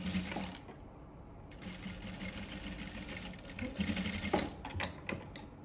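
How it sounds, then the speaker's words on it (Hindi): A sewing machine stitching a Haryanvi daman runs in short bursts, a fast mechanical needle chatter with brief pauses between runs, close and fairly quiet. "यह सिलाई लगा दूंगी"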